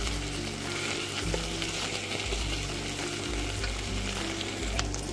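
Garlic, onion and ginger paste fry in hot oil, giving a dense, steady sizzle with faint scraping and clinks from stirring, loud and close throughout.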